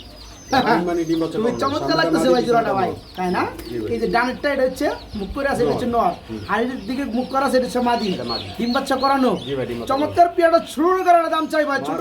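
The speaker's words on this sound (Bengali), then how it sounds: "হোয়াইট কালারের মধ্যে কিং কবুতর বিগ সাইজ দুটো বাচ্চার সহকারে" King pigeons, white and big-sized, coo among other birds at a busy pigeon market, the calls mixed with constant loud talk from sellers and buyers nearby.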